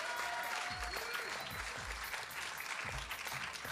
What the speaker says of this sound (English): Ladies and gentlemen, a round of applause for Mark.